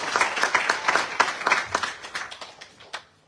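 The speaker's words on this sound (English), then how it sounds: "Give him a lovely round of applause" Round of applause for a singer at a Hindu temple during a Navaratri night, a brief burst of brisk clapping from a small audience that tapers off within a few seconds.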